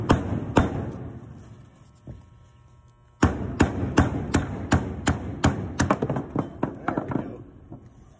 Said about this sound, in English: do not start hammering on your bowling balls to get the core out